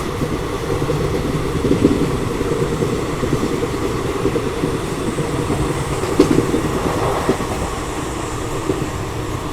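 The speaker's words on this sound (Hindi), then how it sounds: "ये देखो पीछे से आ रही है सिकंदराबाद राजधानी एक्सप्रेस" Secunderabad Rajdhani Express running at around 125–130 km/h on a parallel track, overtaking a passenger train doing about 100: a steady, loud rail rumble with faint clickety-clack and occasional knocks, no voices.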